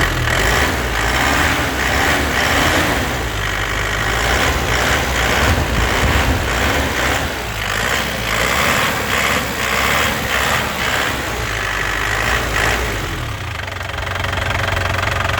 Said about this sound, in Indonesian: Ya, ini kita gas-gas biar puas.